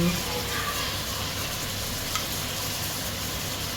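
Cabbage and capsicum sizzle steadily in hot oil for Chinese pulao, an even, continuous frying hiss at moderate loudness with no break.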